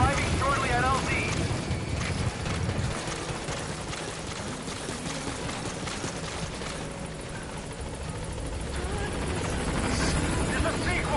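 In the Metal Gear Solid V video game, the Pequod helicopter approaches with a continuous rumbling rotor wash and engine roar. A radio voice speaks over it throughout.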